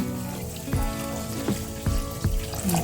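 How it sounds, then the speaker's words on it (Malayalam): Second coconut milk poured into an Angamaly-style mango curry, a close liquid pour with soft bubbling and a few distinct splashing plops over a low simmering background. "ഇതിലോട്ട് നമുക്ക് രണ്ടാം പാല് ഒഴിച്ചു കൊടുക്കാം"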